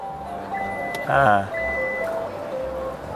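A Hyundai Nexo hydrogen car's power tailgate sounds a series of steady electronic warning tones as it starts closing at an auto show, with a short spoken word and busy crowd noise around it.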